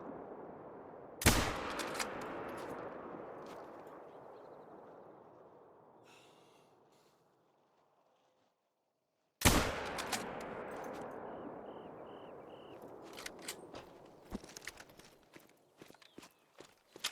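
Two loud rifle shots from the hunting game Hunter: Call of the Wild, each followed by a long decaying echo, with footsteps and rustling movement between and after them.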